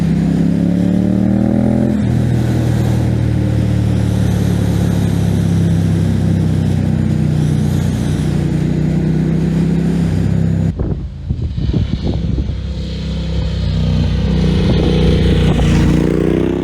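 Ducati Diavel Carbon motorcycle engine arriving, a loud continuous engine drone with shifting revs, then a sudden drop into rougher, clattering rumble as it nears, close and loud throughout.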